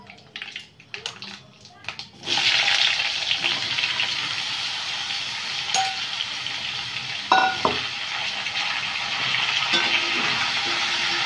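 Pieces of bottle gourd dropped into a hot frying pan with oil and five-spice seeds, setting off a sudden loud, steady sizzle after a few quiet clatters, with a few brief knocks of the pan.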